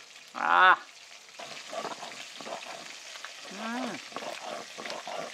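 Fish frying in oil in a home kitchen, with a continuous low sizzle and occasional spatula stirring, interrupted by a brief sharp burst and short bits of nearby voices.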